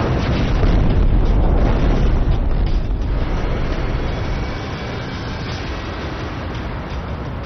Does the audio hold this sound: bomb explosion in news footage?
yes